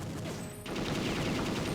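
In a 007 N64 video game, rapid gunfire crackles in a dense, continuous fusillade, with a brief dip before the shooting resumes louder.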